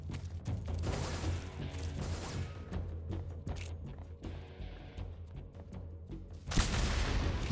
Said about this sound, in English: What are you people shooting at?